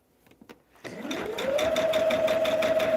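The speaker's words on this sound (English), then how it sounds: "We're just sewing down this line" A sewing machine stitching a seam on a Hunter Star quilt: a few soft clicks, then the motor winds up into a steady, close whirring hum that holds to the end.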